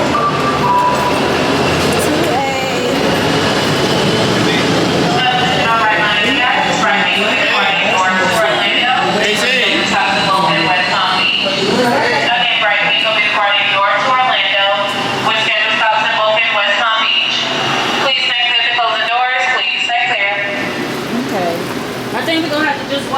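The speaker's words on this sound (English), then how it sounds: "Our train is gonna come on this track." A Brightline passenger train pulls into a station with a loud rolling rumble, screeching tones and a horn-like drone that swell and fade over about twenty seconds, while people talk nearby.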